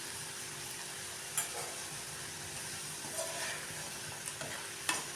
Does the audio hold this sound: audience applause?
no